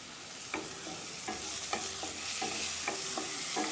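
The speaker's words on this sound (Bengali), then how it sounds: "দিয়ে দিচ্ছি কেটে রাখা টমেটোটা" Chopped tomato goes into a frying pan for a mustard-and-poppy-seed puti fish dish, giving a steady sizzle of oil with repeated sharp clinks of a spatula scraping and stirring at a regular rhythm, close up and with no talk.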